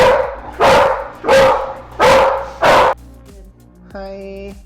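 A Malinois barks in French Ring defense-of-handler training, five loud, evenly spaced barks close by, followed by a brief higher whine.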